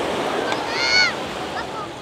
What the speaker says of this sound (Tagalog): Kinig-kinig sa dagat.